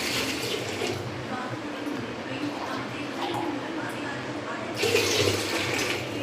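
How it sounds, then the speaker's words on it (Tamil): Water poured into a cooking pot while making sambar, a steady splashing rush that swells louder toward the end, running on its own without talk. "வேக வைக்கிறதுக்கு அதுக்கு தேவையான தண்ணி ஊற்றிக்கணும்"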